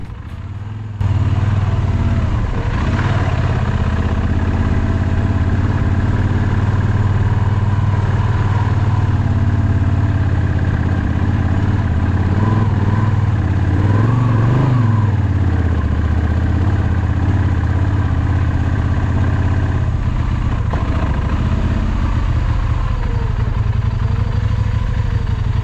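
A motorcycle engine labours and revs hard while climbing a steep hill of deep, slippery sand on a dangerous road, a loud, continuous close roar with throttle surges throughout and no talking.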